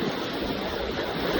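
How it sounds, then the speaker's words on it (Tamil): Rainwater rushes and splashes steadily as someone walks through flooded ground in Kanniyakumari, a continuous broad watery wash heard close and fairly faint. "தண்ணிக்குள்ள நடந்துட்டு இருக்கோம், பார்த்தாலே உங்களுக்கு தெரியும்."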